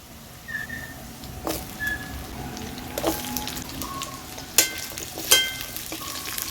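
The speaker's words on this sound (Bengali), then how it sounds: "এবার এতে আমি দিয়ে দেবো আলুর টুকরো।" Potato pieces dropped into frying onion, garlic and ginger and stirred, a close, steady sizzle broken by a few sharp spoon clatters against the pan.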